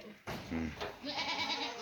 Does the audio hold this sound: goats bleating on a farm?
yes